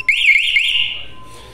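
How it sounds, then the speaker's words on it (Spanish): A BNY two-way motorcycle alarm with a speaker-type siren sounds loudly, a warbling electronic wail that holds steady and then fades slightly toward the end. "Si escuchan, el sonido es muy fuerte. Eso viene por esta sirena, es una sirena tipo parlante."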